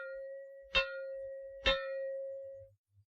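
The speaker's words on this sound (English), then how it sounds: "Or you may hear 3 gongs like this." A gong is struck three times as a fallout warning, producing a steady metallic ring that carries through each strike. The first strike lands at the very start and the other two follow about a second apart before the tone fades.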